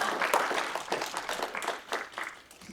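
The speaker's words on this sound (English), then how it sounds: "Big round of applause." A library audience applauds for Amber Casey at an African-American heroes event, a brief burst of scattered hand clapping that fades over a few seconds.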